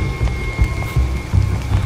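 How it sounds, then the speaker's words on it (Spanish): Rain begins to fall during a Squid Game-themed real-life challenge, heard as a steady patter with bursts of heavier drops over a low rumbling background, fairly loud and close throughout. "¡Empieza a llover, eh!"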